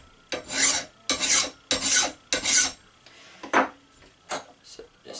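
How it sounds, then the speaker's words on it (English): A mill bastard file rasps by hand across a steel axe head held in a small table vise, about seven distinct strokes, the first four long and regular, then shorter, uneven scrapes, close and fairly loud. "I'm just kind of taking this mill bastard file and finish squaring it up by hand"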